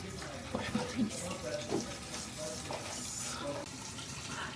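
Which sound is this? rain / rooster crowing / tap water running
tap water running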